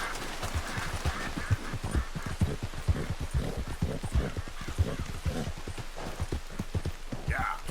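Horse hooves clip-clop in Red Dead Redemption 2, a steady, close rhythm of hoofbeats that continues through the whole stretch.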